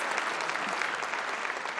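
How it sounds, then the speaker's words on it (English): A large audience at a forum opening ceremony applauds, a dense, even roar of many hands clapping that holds steady throughout, quiet and slightly distant. "Applause"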